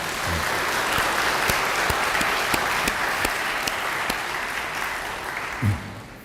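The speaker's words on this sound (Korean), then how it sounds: "여러분 하나님과 여러분 앞에 나와 인사를 올린 이 아름다운 가정들을 다시 한번 큰 박수로 격려해 주시면 감사하겠습니다" A church congregation at a family invitation service gives sustained applause to encourage the families, a steady, full burst of clapping with a few sharper claps standing out, fading slightly at the end.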